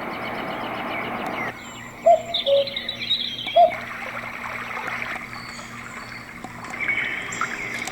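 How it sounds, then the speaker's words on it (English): Chirps and tweets from a bird recording on a Roffie white noise sound machine, a few distinct bright calls rising over a steady soft background hiss, with faint trickling water underneath. "little bird chirping over there."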